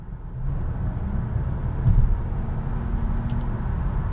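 A Nissan Qashqai e-POWER's three-cylinder petrol engine surges under hard acceleration from 45 mph, giving a steady low droning hum inside the cabin that swells slightly partway through, with no talk over it.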